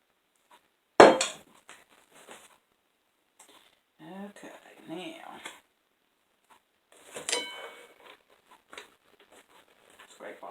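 A spatula scraping chocolate peanut butter cookie dough out of a mixing bowl, a sharp knock followed by scattered soft scrapes and thuds, with someone talking between them.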